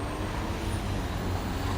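Steady New York City street traffic in Midtown, a dense wash of car motors and road noise close by, with no distinct horn blasts standing out.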